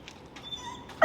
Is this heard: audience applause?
no